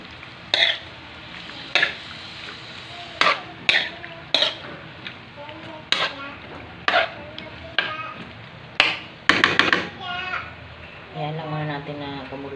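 Paksiw fish stew stirred in a pot, a series of sharp ladle clanks and scrapes against the metal at irregular intervals, close and clear, with someone talking between the strikes and a soft bubbling near the end.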